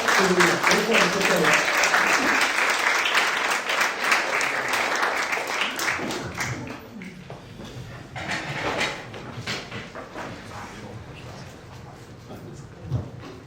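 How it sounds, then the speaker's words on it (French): A church congregation applauds the pastor at a French-language Sunday service, a dense wash of clapping that gradually thins and fades, with a voice speaking over the later part. "On va applaudir le pasteur."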